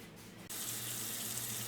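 Tap water pours steadily into a kitchen sink, a brief quieter start giving way to a loud, continuous rushing splash that fills the space up close.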